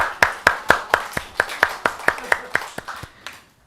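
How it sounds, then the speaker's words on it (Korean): A congregation claps at a church service in a steady rhythmic beat, about fourteen crisp claps in a row, close and loud, slowing and fading toward the end. "박수, 와."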